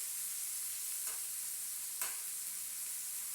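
Onion rings fry in hot oil as part of a home-cooked meal, giving a steady, soft hiss with two brief crackling pops. No one talks over it.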